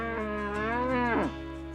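Cattle in a herd ambling down a dirt road, with a single long, loud, close moo rising and falling in pitch and then cutting off.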